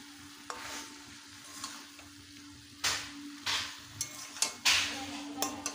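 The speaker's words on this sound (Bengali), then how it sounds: "এবারে মশলাটা দিয়ে একটু ভালোভাবে নেড়ে চেড়ে নেব।" Ground mustard and green chili paste being stirred into frying pumpkin greens, with scraping spatula strokes over a steady background sizzle, several distinct louder stirs in the second half.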